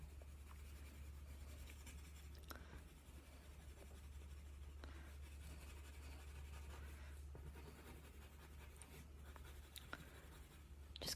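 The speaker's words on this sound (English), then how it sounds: "Just coloring this in." Pencil coloring on paper for an owl drawing, a soft, continuous scratchy shading with occasional sharper strokes, close and faint over a low steady hum, with no talking.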